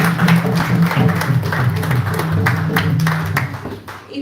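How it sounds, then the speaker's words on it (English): An audience applauds a team coming up to perform a skit, a crowd clapping steadily and fairly loud for a few seconds before tapering off, with voices murmuring underneath. "let's give them a round of applause."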